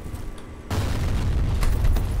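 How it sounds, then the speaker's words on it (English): A direct impact grenade detonating in a first-person video game, a sudden loud boom that swells into a sustained rumbling roar after a quieter start. "Direct impact grenades,"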